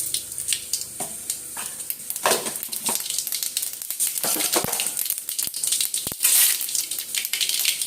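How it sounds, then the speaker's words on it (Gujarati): Mustard seeds spit and pop in hot oil for a tempering, a continuous close sizzle broken by sharp crackling pops throughout, with no voices. "અહીંયા વઘાર કરી રહી છું. તો પહેલા એડ કરીશ રાઈ,"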